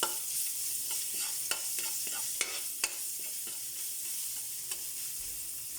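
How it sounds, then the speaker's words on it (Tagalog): Garlic and ginger sizzle in a pan for coconut-milk tuna, a steady close frying hiss with occasional sharp scrapes and taps of a spatula stirring, and no voices. "Magigisa na po tayo para sa ating ginataang tuna."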